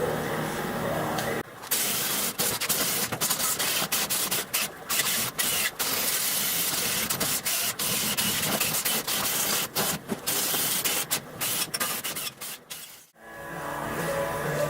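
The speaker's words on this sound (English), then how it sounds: "Sick of wire brushing this." Wire brushing scours rust and loose grime off a Nissan S13 subframe, a loud, harsh, continuous scratchy hiss broken by brief gaps before ending with a short pause.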